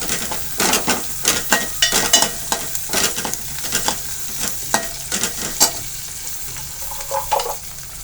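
Turmeric is stirred into sizzling tempering for dal tadka in a pan, making a steady frying hiss with repeated spoon scrapes and clinks against the metal.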